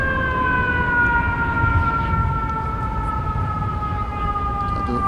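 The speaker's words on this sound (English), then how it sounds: "The siren, New York Fire Department in the background" A New York Fire Department fire engine siren wails steadily in the distance beside a cricket ground, holding a sustained, slowly sliding tone over a low outdoor rumble, with no voices.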